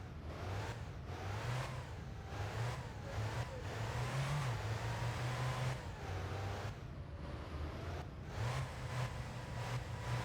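A car in the game My Winter Car revs its engine through a power slide after the e-brake is pulled, making a steady mid-range drone with repeated surging rises in pitch and tire scrub over about ten seconds.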